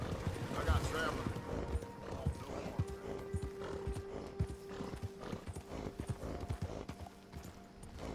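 Hooves clip-clop at a steady walking pace in Red Dead Redemption 2, with a horse whinnying and a low tonal hum underneath, continuing for several seconds.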